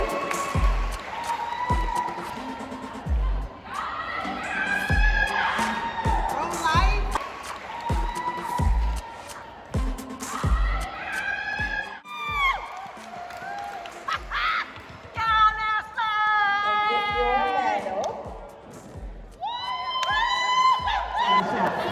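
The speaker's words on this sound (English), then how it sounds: "Names are being called on the screen with friends and family watching and cheering." Friends and family cheer and whoop in bursts at an 8th grade promotion ceremony as names are called, with a crowd and constant talk over the noise.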